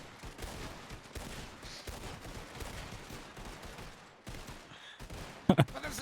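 A ship's starboard cannon or gun volley in a western roleplay game, a rumbling spread of shots fading over several seconds, then a sharp loud burst near the end, with a voice briefly heard.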